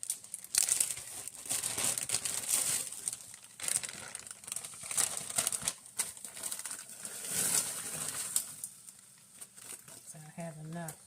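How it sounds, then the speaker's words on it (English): A bag crinkles open and its contents are dumped into a pan while making a chicken fajita casserole, with crisp crumpling and rustling bursts throughout, close and moderately loud, as a voice talks. "open the bag and put it in the pan. Dumping that in there."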